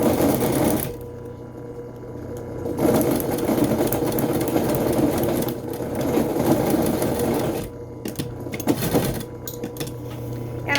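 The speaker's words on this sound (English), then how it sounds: "I'm going to top stitch right through that metal on my fabric" A sewing machine top-stitches through the fabric of a face mask, a steady close mechanical whirring hum that runs in long bursts with brief pauses and a few quick stops and restarts.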